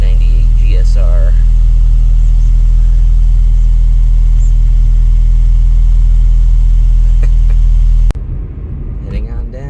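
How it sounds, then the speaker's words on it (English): A 1998 Acura Integra GS-R engine runs with a loud, steady low rumble up close, then cuts to a quieter, rougher sound near the end, with voices over it. "Listen to that. Oh yeah. 98 GS-R."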